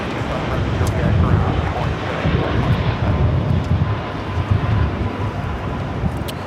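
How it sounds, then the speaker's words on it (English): An EL AL Boeing 787-9 Dreamliner takes off at Los Angeles LAX, bound for Tel Aviv. A steady, broad engine roar holds throughout, thick with low rumble and wind buffeting, with no talk over it. "This is LL Flight 6, taking off to Tel Aviv on the 787-9 Dreamliner."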